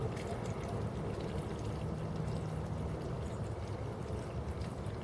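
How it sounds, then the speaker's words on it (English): A Fluval 306 canister aquarium filter gurgles and bubbles steadily while priming, a continuous close watery churn of trapped air working through the system, with no talking. "You'll hear a lot of bubbles and the system working itself out"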